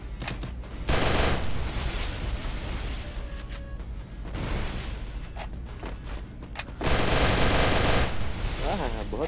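Rapid automatic gunfire in the video game Free Fire comes in several loud bursts separated by quieter stretches, with rattling shots and thuds over background game noise.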